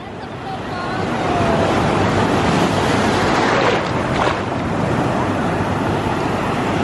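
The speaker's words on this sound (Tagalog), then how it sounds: "Medyo may kalakasan lang yung alon." Ocean waves wash steadily at Patar beach in Bolinao, a fairly strong surf giving a loud, continuous broadband rush mixed with wind buffeting the microphone, with no clear talk.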